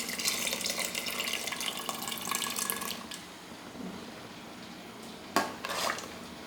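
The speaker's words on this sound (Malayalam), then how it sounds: "ഞാൻ ഈ വെള്ളം കൂടി ഒഴിച്ചു കൊടുക്കുകയാണ് കേട്ടോ" Water rinsed from a mixer jar that held ground coconut is poured into a simmering curry of ripe papaya and drumsticks, a faint splashing pour with a clink of the vessel and a sharp knock near the end.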